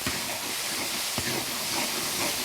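Ginger, garlic and hotpot base sizzling in hot oil in a wok, a loud steady broadband hiss with a few scraping stirs, no talk.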